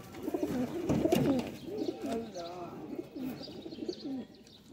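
Banded female pigeons from a fancier's breeding stock coo repeatedly at close range, with soft rolling calls repeating steadily throughout.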